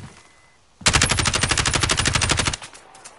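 Sustained rapid automatic gunfire in a video game, a dense burst of evenly spaced loud shots lasting nearly two seconds, then cutting off into quieter background noise.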